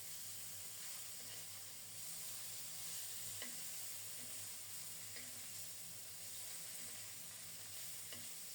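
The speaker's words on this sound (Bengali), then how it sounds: "অল্প একটু তেলে মাছগুলো ভাজা বসিয়েছিলাম" Small young hilsa fish fry in a little oil in a pan, producing a faint, even sizzling hiss with only a few soft ticks, no voices.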